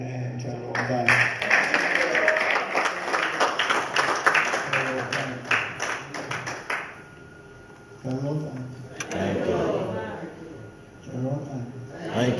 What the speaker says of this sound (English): Clap your hand and tell the Lord,